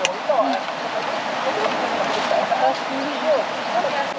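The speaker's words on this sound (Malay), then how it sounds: "Ada air turun tu. Air kopi." Water rushing steadily down a forest stream on a jungle trek, a continuous bright churning flow that stays close and loud throughout.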